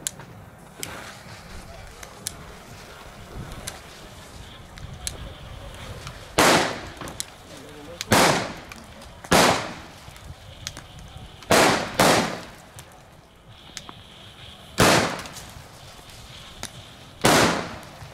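Italian firecrackers go off in a string of sharp, loud bangs, about eight separate blasts at irregular intervals, with a voice talking between them.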